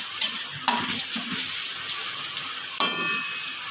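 Onions frying in a pan, a steady close sizzle with a few scraping stirs and clinks of a utensil, no voices.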